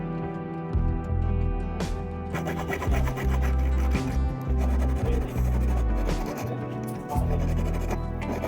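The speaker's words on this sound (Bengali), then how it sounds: "ফাইল কিংবা রেত দিয়ে এটাকে ভালো করে ঘষে ফিনিশিং নিয়ে আসব।" An 18K gold ring is filed by hand with a file or rasp, giving a close, steady, repeated rasping scrape in strokes of even rhythm with brief pauses between passes.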